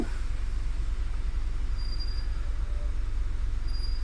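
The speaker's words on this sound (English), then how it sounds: "And we can hear a tram coming up." An approaching tram rumbles along its rails on a city street, a low steady roll with faint wheel squeals, while no one speaks.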